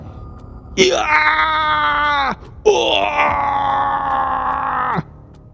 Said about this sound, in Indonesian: Para biksu sesat itu berteriak kesakitan terkena cahaya suci yang menyinari seluruh tempat.